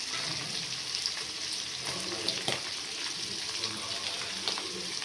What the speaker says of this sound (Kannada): ನೋಡಿ ಶುಂಠಿ ಬೆಳ್ಳುಳ್ಳಿ ಪೇಸ್ಟ್ ಹಾಕ್ತಾಯಿದ್ದೀನಿ